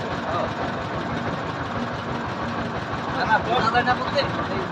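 A steady engine chugs at close range throughout, a continuous low motor drone with faint voices and some higher clatter late on.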